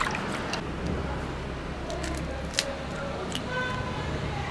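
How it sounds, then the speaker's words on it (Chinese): Homemade salted duck eggs are rinsed in water to wash off plant ash, giving a steady close sloshing and rubbing with a few small clicks and splashes. No talking. "放水里面洗一下，"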